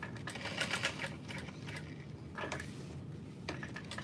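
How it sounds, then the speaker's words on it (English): Sewing machine stitching a small box stitch across a vinyl backpack strap, a steady mechanical whir with short ticking bursts and brief pauses, close and moderately loud throughout. "I'm just gonna sew across to do like a little box stitch almost"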